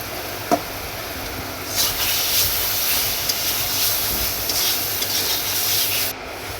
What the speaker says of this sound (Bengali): আমি যে মাংসটা ধুয়ে এনেছি এর মধ্যে দিয়ে দেবো